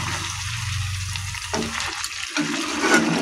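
Tap water runs in a home kitchen during cooking, a steady broadband rush that shifts in strength as the flow changes, close and fairly loud with no talk.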